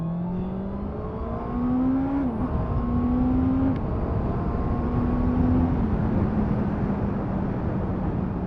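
A 2023 Honda CBR650R motorcycle accelerates hard to overtake a truck on an open road, its engine note climbing steadily with a quick upshift partway through, loud and close over continuous wind rush.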